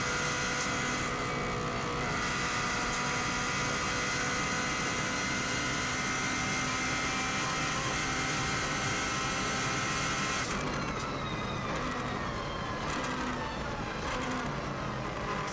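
Subaru WRX STI car at full speed on the Isle of Man TT road course, heavy braking down into third then back on the power early: a continuous loud close engine and road roar whose tone shifts sharply partway through.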